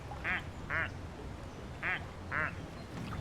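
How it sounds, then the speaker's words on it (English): A regular plastic duck in Placid Plastic Duck Simulator quacks four times in two pairs, each quack short and nasal, alone over a soft steady background hum. "So regular duck sounds like this."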